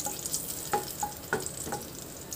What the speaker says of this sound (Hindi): तेल को गर्म करेंगे और लहसुन को उसमें डालेंगे।